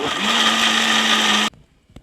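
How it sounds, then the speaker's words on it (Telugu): A mixer grinder whirs loudly and steadily as it blends garlic and chutney ingredients for a rural-style dried red chilli and tomato chutney, then cuts off abruptly, leaving quiet handling noise. "ఇప్పుడు ఒకే ఒకసారి తిప్పుకుంటే సరిపోద్దండి మిక్సీ"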